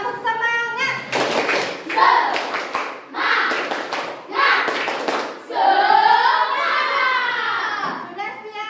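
Schoolchildren in an Indonesian classroom do a rhythmic spirit clap, chanting together in bursts between sharp groups of clapping, loud and close.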